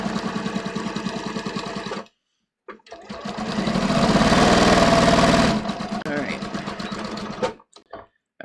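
Sewing machine stitching a curved denim crotch seam on jeans, running in steady rhythmic bursts with a long fast run in the middle and short pauses between, close and fairly loud, with some talk nearby.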